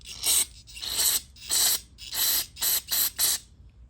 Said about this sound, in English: I'm gonna spray some of these passages